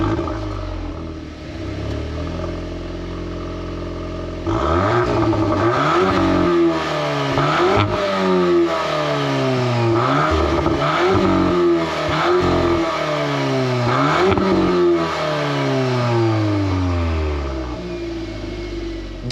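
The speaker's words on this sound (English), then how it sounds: "Definitely a lot more impressed with the noise that the Golf R makes." A 2023 Volkswagen Golf R 20th Anniversary with DSG starts up, then its exhaust rises and falls through a series of sharp revs, loud and close, with a steadier idle at the start and end.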